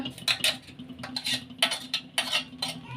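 A spoon clinks against a steel vessel while ground mint is stirred into cooled sugar syrup, a string of light irregular metallic taps and scrapes over a faint background hum.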